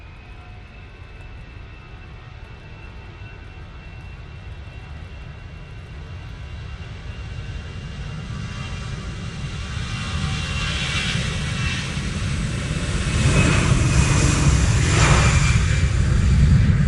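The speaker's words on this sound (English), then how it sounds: "And that's EasyJet A320-200" An EasyJet Airbus A320-200 comes in to land at Manchester Airport in wet, windy weather, its jet roar building gradually from a distant rumble to a louder broadband whoosh.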